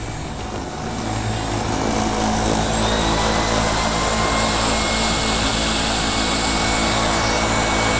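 An LG Cord Zero A9 Lite cordless stick vacuum on turbo mode, steady loud whirring motor hum with a high whine, running continuously at close range after a brief quieter start.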